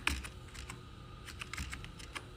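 Typing on a computer keyboard in Microsoft Word: a quick, close run of crisp key clicks with uneven rhythm and no voice over it.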